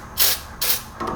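A spray can hisses in three short bursts under a Mazda Miata being torn down with hand tools, each spray sharp and close, with no voices.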